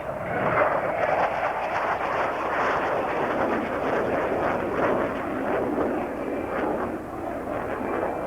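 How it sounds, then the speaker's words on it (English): A fighter jet making a high-speed pass at the 1993 Dayton Air Show, a loud continuous broadband roar of jet engine noise sweeping steadily across the whole stretch without any voices. "From the right in the high-speed pass."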